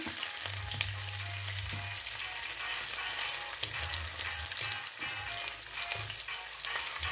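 Potato seekh kebabs frying in a pan and being turned, with a continuous crackling sizzle of oil, a few low clunks as they are moved, and no speech.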